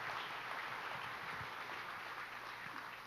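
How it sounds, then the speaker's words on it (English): Audience applause at a model competition announcement: a steady, dense patter of clapping from a crowd, moderately distant and even throughout, with no voices over it. "So I say you give yourself a big round of applause."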